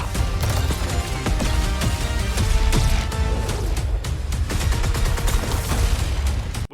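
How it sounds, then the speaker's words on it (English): A machine gun fires in a Destiny Season of the Splicer trailer: loud, dense bursts of rapid shots with crashes and booms, filling the whole stretch without a pause. "We do get to see that new machine gun in play there"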